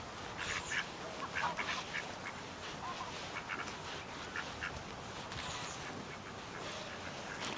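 Ducks quack repeatedly in a steady chattering chorus, moderately distant, with no talking.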